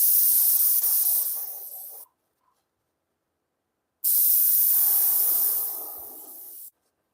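An airbrush sprays purple and teal paint through a stencil in two bursts of steady, close hiss, each about two to three seconds long, separated by a silent pause.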